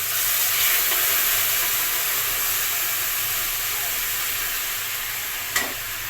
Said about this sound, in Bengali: এবার এই চুলায় সিদ্ধ করে রাখা গরম জলটা দিয়ে দিচ্ছি